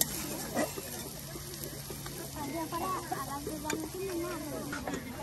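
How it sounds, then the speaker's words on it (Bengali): Plenty of onions fry in oil at an outdoor riverside cooking spot, with a faint continuous sizzle and scraping stirs. Quiet voices talk underneath. "তেলের সাথে পেঁয়াজ গুলো একদম ভাজি ভাজি করে নিয়েছে"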